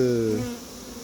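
A loud, close honeybee buzz from a swarm going into a hive starts strong and fades within half a second, leaving a faint, steady hum from the rest of the bees.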